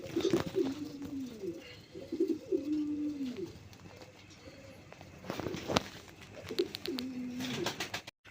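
A pair of Moyna pigeons, male and female, coo in repeated rolling bursts at close range, with soft shuffling and wing or foot rustles between calls and a sharp knock near the end.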